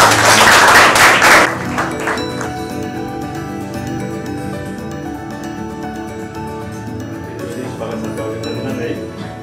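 Audience clapping welcomes a guest onto a chat show stage, a loud burst at the start that fades into a low background bed over the remaining seconds.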